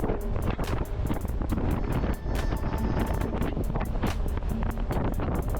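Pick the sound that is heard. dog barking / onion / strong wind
strong wind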